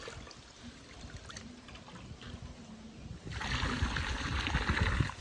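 Water pours steadily into a pot, a low trickle that swells into a louder, fuller splash partway through, with no talking.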